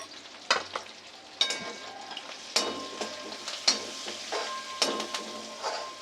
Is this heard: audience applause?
no